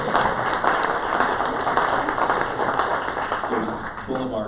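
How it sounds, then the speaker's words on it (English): A meetup crowd gives a round of applause to the sponsors who paid for the beer, wine and food. The clapping is steady and fairly loud throughout, with a faint voice under it near the end. "so round of applause."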